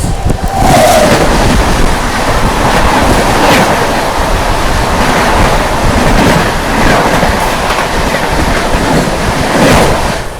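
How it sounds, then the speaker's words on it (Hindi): The New Delhi–Visakhapatnam Andhra Pradesh Express rushes past on the adjacent track, heard from inside a 2AC coach of the Tamil Nadu Superfast Express, as a loud, continuous roaring rumble with rhythmic clatter. "सामने से आ रही है न्यू दिल्ली विशाखापट्टनम आंध्र प्रदेश एक्सप्रेस"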